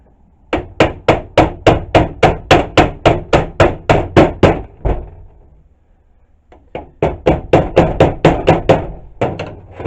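Rapid metallic hammer taps in two fast bursts, a dozen or so sharp strikes each, separated by a brief pause, close and loud, as a small hammer taps a cotter pin out of a vise.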